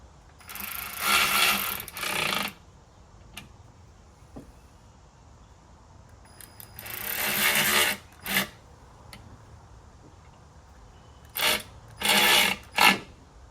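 A Harbor Freight electric ratchet is used on fittings while boost leaks are fixed on a 1000 hp Supra. It gives several loud, buzzy whirring bursts of one to two seconds each, with quick short spins near the end.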